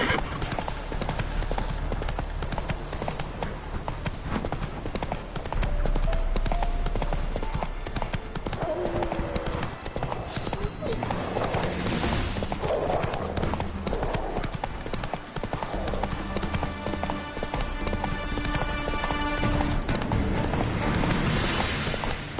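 Roach the horse galloping in The Witcher 3, with a rapid, steady clip-clop of hooves sustained throughout, close and loud, under ambient game sound and a brief whinny.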